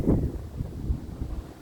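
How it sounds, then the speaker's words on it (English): Strong outdoor wind buffets the microphone, giving loud, uneven low rumbling gusts that are strongest at the start and keep going throughout. "it is super windy today"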